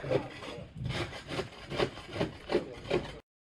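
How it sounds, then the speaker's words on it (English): Hand scraping barnacles off a boat hull in a boatyard, a rhythmic series of about eight rough rasping strokes, close and moderately loud, with no talking. "Did you see that barnacle scraping?"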